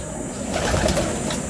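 Pigeons cooing softly for a brief moment against a hushed background, the low calls close and faint.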